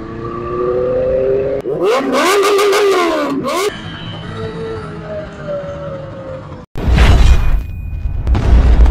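Several motorcycle engines rev loudly in bursts, rising and falling in pitch, then a heavy roar of engines close by near the end.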